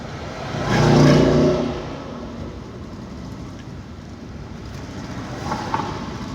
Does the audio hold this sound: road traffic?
yes